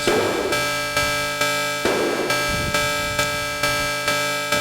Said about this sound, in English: We're going to take our open hi-hat and put 4 on the floor with that